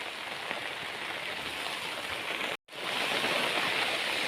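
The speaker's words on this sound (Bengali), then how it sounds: "বৃষ্টি পড়ছে তো এখানে" Steady rain falls across an open field where cabbage seedlings grow, a dense hiss of drops hitting the ground and plants that carries on throughout with one brief dropout, and no voices.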